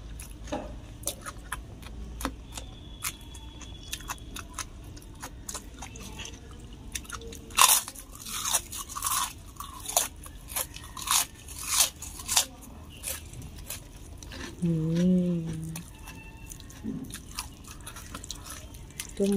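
Crunchy bites into well-fried fish during a big whole fish curry meal, a series of sharp close crunches and chewing clicks, with a brief hum of voice near the end.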